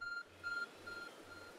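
A smartphone-like object in the video game Pokémon Legends Arceus gives off repeated short electronic beeps in an even rhythm, fairly faint, with no talk.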